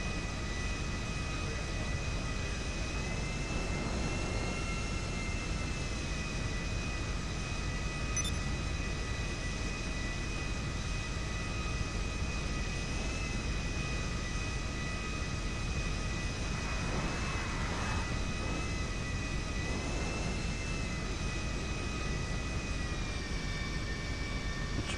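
Steady droning airplane engine in the GTA Online video game, a continuous even hum with a broad whooshing rush that holds at constant loudness throughout, with no talk over it.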